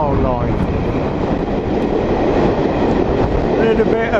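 A railtour train runs on the Settle and Carlisle line through the Yorkshire Dales. Loud, continuous rolling rumble and wheel clatter sound from on board, with faint voices mixed in.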